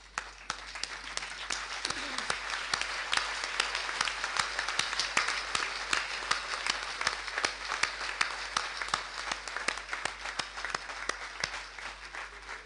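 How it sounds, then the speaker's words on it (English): A gathering in the Gambia stands and applauds its students with sustained, dense clapping from a sizable crowd, steady and moderately loud for the whole stretch, with no talking over it. "stand up for a few minutes and clap for the students of the Gambia"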